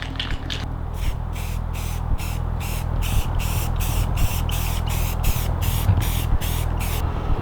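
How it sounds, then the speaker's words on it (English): White spray paint hisses from an aerosol can onto letters for a homemade fingerboard park, in a rapid series of about sixteen short, close bursts with brief gaps between them. "it's time to spray paint the white onto the letters."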